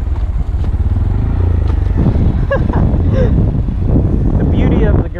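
A Honda Grom motorcycle rides offroad, its small engine droning steadily up close amid wind buffeting and clatter, with a voice speaking over the ride.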